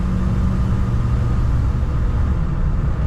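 A 1978 Lincoln Town Car four-door sedan cruises along, its engine giving a smooth, steady low rumble that holds constant with no voices.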